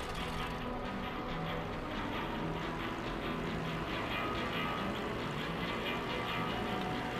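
A red propeller plane in a video game drones with a steady, unbroken engine hum that stays level and fairly loud throughout, with no talk over it.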